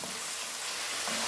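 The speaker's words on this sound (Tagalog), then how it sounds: "Gigisa natin hanggat maluto yan. Until become golden brown yung onion." Onion and garlic sautéing in a pan, a close, steady hiss of sizzling oil with soft stirring scrapes, no voices.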